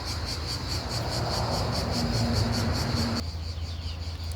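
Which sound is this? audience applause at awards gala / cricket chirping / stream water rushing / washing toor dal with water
cricket chirping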